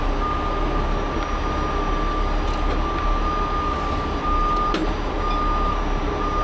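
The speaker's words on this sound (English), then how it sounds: "let me raise up the underlift." A tow truck raises its underlift, giving a steady mechanical hum and engine drone with a continuous high tonal whine from the hydraulics, close and loud, with a few faint clicks.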